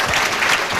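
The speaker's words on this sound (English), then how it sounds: "I'm sorry that Bill Buckley's friends didn't clap enough" An audience at a 1998 panel discussion applauds, giving a dense, steady wash of clapping that fills the moment without any speech.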